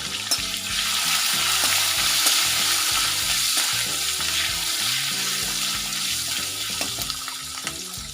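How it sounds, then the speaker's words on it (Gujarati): Green chillies sizzle steadily in hot oil with asafoetida and curry leaves for a carrot and capsicum vegetable dish, a continuous loud frying hiss with occasional stirring clicks throughout, no talk. "મરચાંને આપણે તળાવવા દેવાના."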